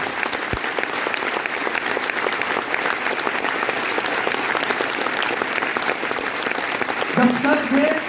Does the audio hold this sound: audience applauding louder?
yes